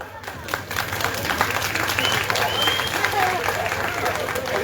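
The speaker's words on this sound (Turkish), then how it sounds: "bak alkış bile aldın" Steady crowd applause in an outdoor street setting, a dense wash of clapping at moderate distance with people talking nearby over it.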